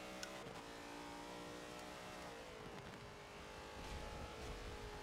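In Forza Motorsport 7, a race car engine drones and revs from an outside view, with a few sharp cracking pops of backfire breaking through the steady harmonic roar.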